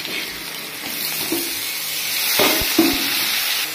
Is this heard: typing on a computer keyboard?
no